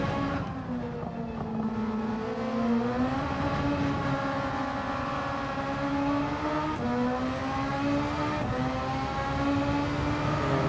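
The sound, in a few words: race car engine accelerating at full throttle, from a racing video game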